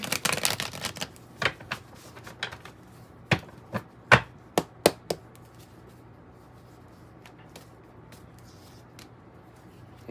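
Rider-Waite tarot cards being shuffled by hand, a cluster of quick riffling snaps at the start followed by sparse, separate card taps and flicks that fade into near quiet.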